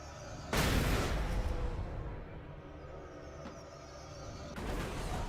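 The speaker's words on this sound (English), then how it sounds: "I will load up the flashbangs and do that" Flashbang grenades go off in the video game Alan Wake: a loud burst near the start, then a long fading wash of noise, with a second burst building near the end. No one speaks.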